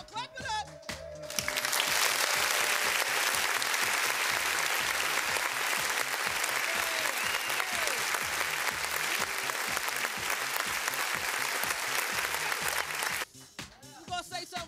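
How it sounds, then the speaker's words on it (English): Sustained crowd applause and cheering from a live studio audience at a Grind City Live TV showcase, loud and steady for most of the stretch, with someone talking briefly at the start and end. "Make some noise if you in the crowd. Clap it up."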